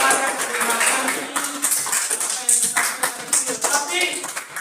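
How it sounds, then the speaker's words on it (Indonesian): Children clapping their hands in a classroom, a loose burst of claps with a few taps mixed in, moderately loud, with voices talking over parts of it. "Tepuk tangan."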